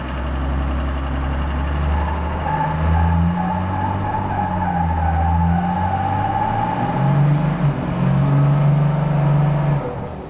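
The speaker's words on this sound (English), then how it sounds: "I don't think I've ever seen a burnout in the garage done before" A truck does a burnout inside a garage, its engine roaring loudly and revving up and down in sustained waves over about ten seconds, with tire squeal and a deep rumbling drone close by.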